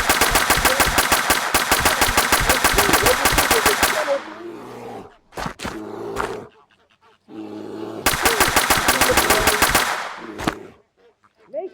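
Sustained automatic gunfire in the video game I Am Monkey comes in two long, loud bursts, with sharp single shots and clatter between them. It sounds close and dominant, and brief voice activity may sit beneath it.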